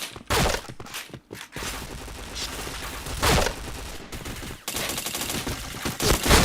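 Gunfire in a mobile shooter game: dense bursts of automatic shots and rapid fusillades, loud and close, with brief gaps and a few scuffing footsteps between volleys.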